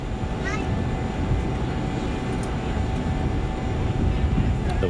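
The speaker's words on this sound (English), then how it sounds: "we can fire up the APU by pressing start" An auxiliary power unit on a BAE 146 airliner spools up inside the MSFS 2020 flight simulator: a steady, loud turbine roar and hum with a thin whine rising briefly, continuous throughout.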